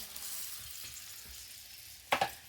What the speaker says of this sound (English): they got a nice brown on them, sizzling